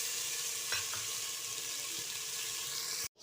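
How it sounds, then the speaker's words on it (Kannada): Onion and tomato frying in a pan, with a steady, close, even sizzle running throughout and a couple of faint stirring knocks, alone without voices, until a brief drop near the end. "ಅದು ಕಂದು ಬಣ್ಣ ಬರೋ ಹಾಗೆ ಚೆನ್ನಾಗಿ ಫ್ರೈ ಮಾಡಿದ್ದೀನಿ."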